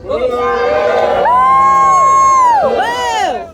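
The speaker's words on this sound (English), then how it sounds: "Booing is good." A large crowd at a political speech about the Musk-Trump administration lets out loud, sustained booing, with voices swelling and gliding together for several seconds before dipping and rising again.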